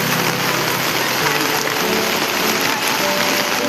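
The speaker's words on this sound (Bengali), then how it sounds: "মারাত্মক বৃষ্টি হচ্ছে, raining like cats and dogs" Heavy rain pours at night on a flooded street, a dense, steady, loud roar of drops hitting surfaces without a break.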